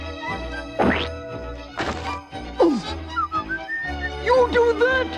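Several cartoon bombs drop one after another, each with a descending whistle ending in a dull thunk, followed by bright whistling tones and cartoon effects, loud and close.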